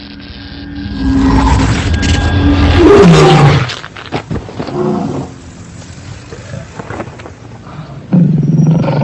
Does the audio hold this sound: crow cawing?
no